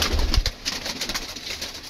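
Pigeons in a backyard pigeon colony coo softly and low, with a brief cluster of close coos near the start and a faint bird murmur continuing throughout.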